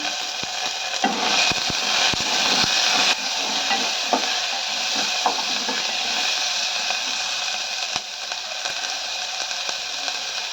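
Onions and tomato sizzling and frying in a pan with salt for mutton paya soup, a steady hiss with occasional stirring clatter, close and alone.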